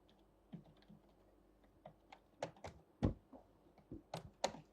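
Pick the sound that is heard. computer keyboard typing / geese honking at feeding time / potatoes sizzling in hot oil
computer keyboard typing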